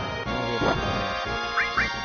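Short nasal quacking tones from the battle in Final Fantasy 7 sound over steady game music, with a couple of quick rising chirps near the end.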